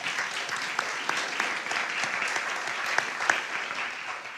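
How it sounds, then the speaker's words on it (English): Audience applause at a teacher town hall event in Birmingham, a steady wash of many hands clapping at moderate level with a few sharper claps standing out, heard alone without talk. "Let's give a round of applause for George Parker."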